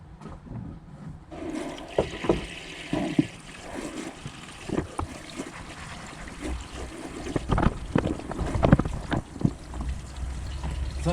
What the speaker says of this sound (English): so I'm going to put water on, see what happens on this side